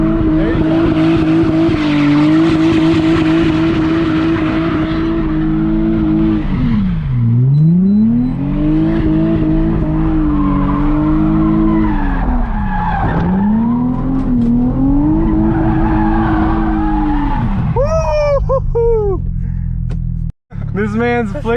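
A Nissan 350Z does smoky donuts, its engine holding high revs in long sweeping waves while the tires squeal and skid continuously, loud and close, ending in sharp chirps and a brief cut.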